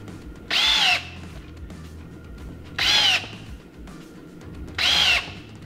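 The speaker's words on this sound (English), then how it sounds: "So you just mount it in any drill, like that." Three short, loud bursts of a power drill driving a used stud into an off-road side-by-side tire, each about half a second with a whining pitch, separated by quieter pauses.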